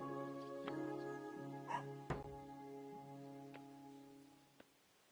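A dog in Kingdom Come: Deliverance 2 gives a few short yips and barks, one sharp bark standing out, over a steady humming game background.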